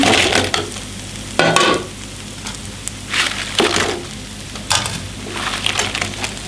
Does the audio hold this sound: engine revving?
no